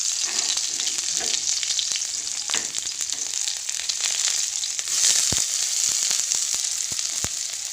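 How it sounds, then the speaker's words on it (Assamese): Chopped onions dropped into hot cooking oil for an Assamese sour curry crackle and sizzle in a steady, close, bright hiss, with occasional sharper pops and spatters and no talking. "তেলখিনি গৰম হৈ গ'ল মই পিঁয়াজ দি দিছোঁ"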